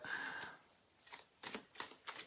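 A deck of tarot cards being shuffled by hand, a soft opening riffle followed by several short papery bursts in an uneven rhythm, close and quiet with no talking.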